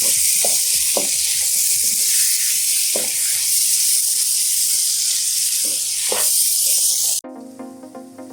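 Four tomatoes sauté in a hot pan for a chicken roast, giving a loud, steady sizzle with occasional stirring clicks. The sizzle cuts off abruptly near the end and background music takes over.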